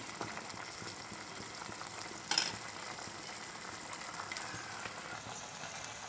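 Chicken frying in ghee in a pan for chicken ghee roast gives a quiet, even sizzle throughout, broken by one brief metallic clatter partway through.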